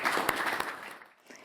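Assembly applause from a gathered audience, a burst of fairly faint clapping with a few sharper claps standing out, fading over about a second and a half.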